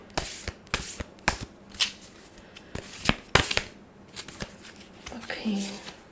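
A deck of healing oracle cards being shuffled close up, with a quick series of crisp riffling bursts and taps in an uneven rhythm. A voice speaks briefly toward the end.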